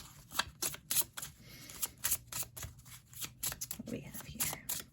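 Oracle cards being shuffled in quick, crisp riffling bursts, repeated several times at close range, with a voice talking in between.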